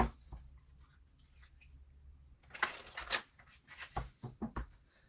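Tarot cards riffle and slide in a couple of quick shuffling bursts, followed by lighter flicks and taps, quiet and close.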